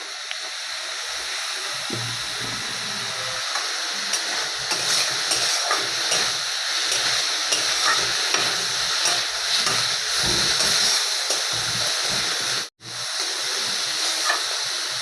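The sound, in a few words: masala frying in oil in a pan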